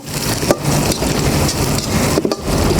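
Coriander stems lightly frying in a pan make a continuous, crackly sizzle with a few brief scraping dips, close and loud, and no one speaks.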